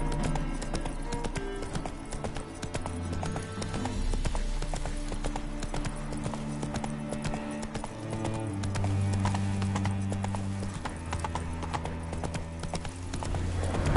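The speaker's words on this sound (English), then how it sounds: "Spooking my horse." Roach, the horse in The Witcher 3, moves at a steady clip-clop of hooves with a brief whinny, set against a game music score with low sustained tones.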